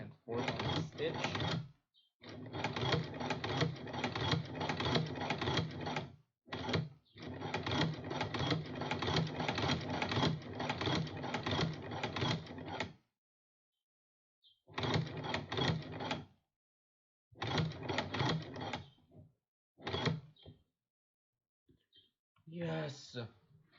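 A sewing machine stitches back and forth on a fabric dice pouch in several loud, rapid mechanical whirring runs, two long stretches followed by shorter bursts separated by pauses, close up with no talk.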